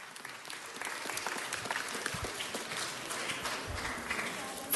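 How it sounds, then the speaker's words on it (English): Audience applause at an Engineers Week 2016 event fills the room with steady, dense clapping at moderate distance, sustained evenly throughout. "Let's give one more round of applause."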